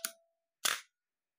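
An Olympus OM-10 film camera's shutter fires with two crisp mechanical clacks about half a second apart, close and clean against silence.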